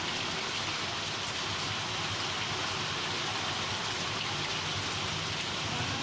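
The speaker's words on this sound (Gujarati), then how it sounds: "વરસાદની શરૂઆત થઈ છે।" The season's first monsoon rain pours down steadily over a city, a dense, even hiss of falling water that stays loud and unbroken throughout.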